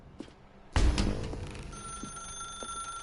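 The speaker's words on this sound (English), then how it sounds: "Now pick up the phone." A telephone ringing in the video game The Stanley Parable, one loud ring striking suddenly after a quiet moment and sustaining with a steady high tone, no speech over it.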